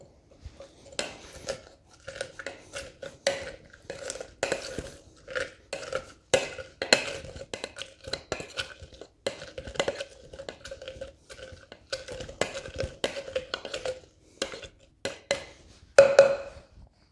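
Cucumber slices and lime wedges muddled in a metal cocktail tin make a steady run of crunchy, squelching thumps and metallic knocks, close and fairly loud, ending with a sharper clank.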